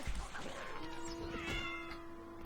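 Cat meowing inside LEGO Minifigures Online, a few drawn-out mewing calls over game sounds and faint background noise.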